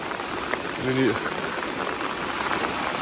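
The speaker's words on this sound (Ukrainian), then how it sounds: "Прямо ж бурлить, кипить" Storm floodwater bubbles and churns forcefully in a flooded forest in South Carolina, a dense, steady rushing hiss with a voice speaking over it.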